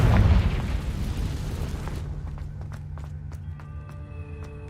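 A Confringo fire spell explodes in the Hogwarts Legacy video game with a loud low boom that fades over a few seconds into a ringing, humming game ambience with faint clicks.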